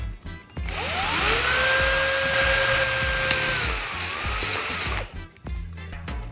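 A power drill with a small bit whines at a steady high pitch for several seconds, drilling a hole in a plastic bottle cap, loud and close, then stops, with brief clunks before and after.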